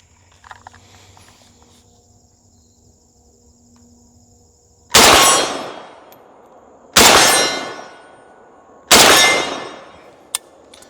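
Three loud gunshots from an M70 rifle fitted with a budget muzzle brake, fired about two seconds apart at close range, each a sharp blast with a decaying tail, after a quiet stretch of outdoor ambience.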